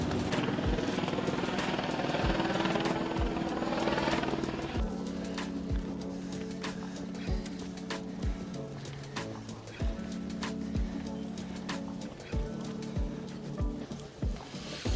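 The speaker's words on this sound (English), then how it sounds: "there's a helicopter just behind us doing something" A helicopter flies close behind hikers high in the Swiss Alps, its rotor thumping in a fast, steady beat with a droning engine tone that shifts pitch, loud and near throughout, under faint outdoor noise.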